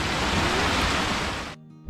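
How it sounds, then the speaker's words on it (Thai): A forest waterfall pours with a loud, steady, broadband rush that fills the clip, then cuts off abruptly for a brief moment near the end before the roar returns. "ขับมาแป๊บเดียวเราเจอน้ำตกแล้วนะสุดยอดมากครับ"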